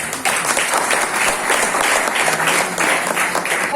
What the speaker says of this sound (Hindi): एक बार जोरदार ताली होनी चाहिए पीछे भाई।